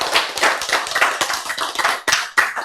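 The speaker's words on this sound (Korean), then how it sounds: "그런데 이번 끼는 박수 소리가 꽤 괜찮아요" Audience applause at a health talk, dense close hand clapping in irregular bursts and sharp peaks, loud and steady with no talking.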